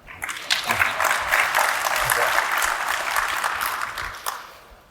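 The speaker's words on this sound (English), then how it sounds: "All the presidents from our campuses clapping to that, right?" Campus presidents applauding at a community collaboration event, a steady, dense round of clapping from a roomful of people that fades near the end.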